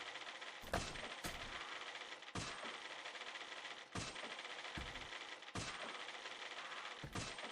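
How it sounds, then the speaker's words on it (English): Rapid typewriter clatter from The Great Ace Attorney Chronicles, dense bursts of keystrokes broken every second or so by loud carriage-return dings and slams, repeating steadily. "Listen to the typewriter lady."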